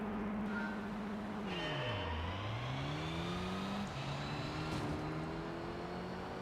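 Ford Escort Cosworth race car in Gran Turismo 3 at Seattle, engine droning loudly and continuously, pitch dipping and climbing through gear changes and throttle lifts, alone without talk.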